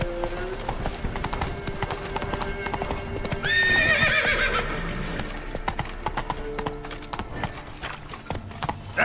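Roach, a horse in The Witcher 3: Hearts of Stone, gallops with steady clip-clopping hooves under a busy game soundscape, and a loud whinny rises near the middle.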